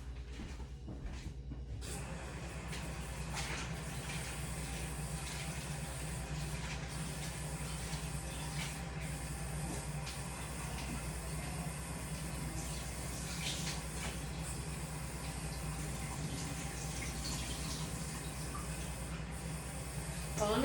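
Cold water running steadily from a kitchen sink tap while rinsing steak fries, a continuous broadband rush that holds for the whole stretch after a brief quieter start.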